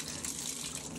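Shower water running steadily as cold and warm are mixed, a constant close hiss and splash with no break over the whole moment.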